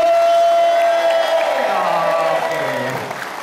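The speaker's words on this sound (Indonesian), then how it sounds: "Tepuk tangan lagi" An audience at a large indoor event in Bekasi applauds and cheers, with a strong tonal whine fading and gliding downward over the crowd noise as it tapers off.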